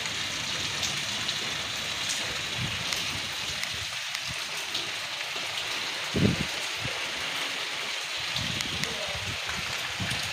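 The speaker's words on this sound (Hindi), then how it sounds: "कितनी तेज़ बारिश आ गई" Heavy rain pours steadily at a home, a continuous broadband hiss with scattered low thumps and brief patters throughout.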